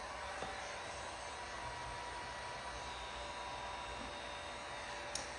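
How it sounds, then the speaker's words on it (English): A heat gun on a low setting blows with a continuous whooshing hiss at one level throughout, used on chrome window trim of a 2019-or-later Nissan Altima. "hit all of this with a little bit of heat from a heat gun on a low setting"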